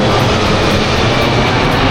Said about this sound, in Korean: 비행기 바퀴가 거의 보일 정도로 가깝게 날고 있었어요.